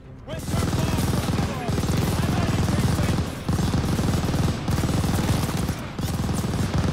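A machine gun hammers away in Call of Duty: Vanguard in long, loud sustained bursts of rapid fire, broken only by a few brief gaps and mixed with battle noise.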